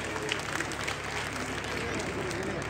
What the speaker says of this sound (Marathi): एकदा जोरात टाळ्या त्यांच्यासाठी झाले पाहिजे.